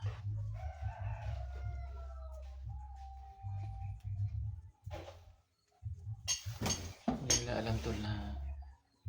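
Plates and cutlery clink and clatter as someone washes dishes, with a steady low rumble underneath. A rooster crows in the background, and a busier burst of clanking comes near the end.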